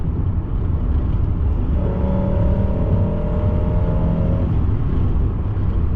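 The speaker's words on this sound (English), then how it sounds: "I put the foot all the way down and it revved up." A 1997 Toyota Camry LE engine revs under a full press of the throttle, a loud, steady drone heard from inside the moving car over constant road rumble.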